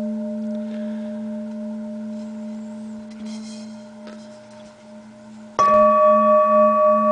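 An old 7-inch, 1007-gram singing bowl rings with a steady sustained tone that fades slowly, then is struck again for a louder, bright ring that hums on alone to the end.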